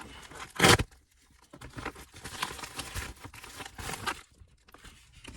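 Packaging for a Lasfit Switchback LED turn signal for a 7th-generation Nissan Maxima is cut and torn open, with a sharp rip followed by soft, intermittent crinkling and rustling close by.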